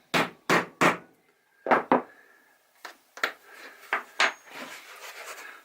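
A 16-ounce hammer gives a series of sharp taps to pin over a press stud for a hat, a quick triple strike, then scattered single knocks and lighter ticks, close and clear with no talk.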